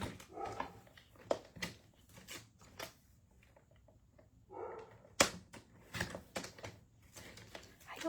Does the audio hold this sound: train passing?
no